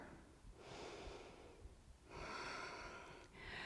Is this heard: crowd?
no